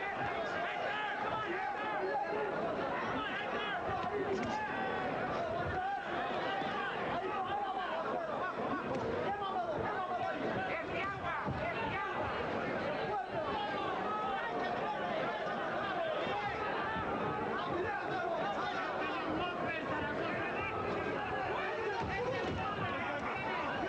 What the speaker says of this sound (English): Left hand in the middle of the face of Sanchez brings a roar from the crowd